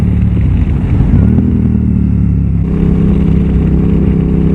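A KTM 990 SMT supermotard with its LC8 twin-cylinder engine is held at full throttle, a steady loud close-up drone with a slight rise in pitch partway through, no voices over it.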